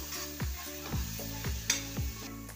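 Spice masala roasts in oil in a pan for egg curry. A soft, low sizzle sits under rhythmic stirring strokes roughly every half second, fairly quiet and close, with no voices.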